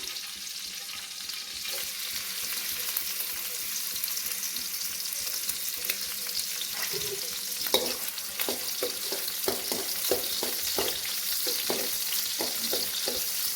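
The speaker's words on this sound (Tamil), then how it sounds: "இந்த ஸ்டேஜில் பச்சை மிளகாய் ஆட் பண்ணிக்கலாம்" Green chillies frying in hot oil for goat blood fry give a constant hissing sizzle, then a string of spoon scrapes and clacks as they are stirred, near and moderately loud with no voices.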